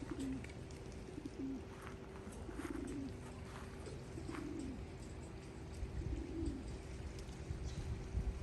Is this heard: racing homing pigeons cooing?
yes